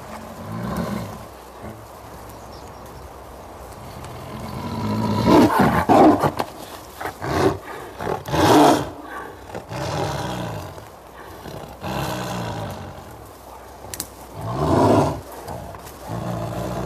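A Siberian tiger gives a series of deep, rumbling roars and growls over several seconds, rising and falling in loud bursts separated by short pauses.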